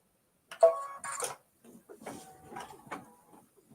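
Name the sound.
embroidery machine stitching a scarf design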